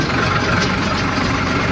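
A tractor engine idles with a steady low rumble while reversing along a narrow sandy track at night, close and continuous with no voices.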